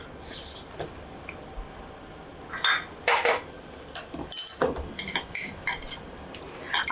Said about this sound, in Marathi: गरम आहे ना, त्यामुळे सुरुवातीला चमच्याने करायचं.